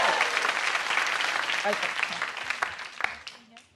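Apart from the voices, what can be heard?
comedy audience welcome applause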